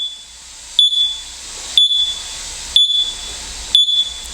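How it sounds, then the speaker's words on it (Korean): A Nitro Fill nitrogen generator tire inflator at a car shop beeps four times, evenly spaced about one second apart, each a sharp, loud electronic tone over a faint steady hum. "이 삐삐 소리를 좀 오래 들어야 돼요."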